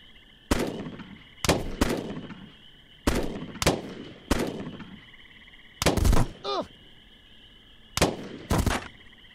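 Gunfire from the tactical video game Jagged Alliance: Back in Action, sharp loud shots in paired bursts with short echoing decays, about nine reports over several seconds, close and clear with no talking.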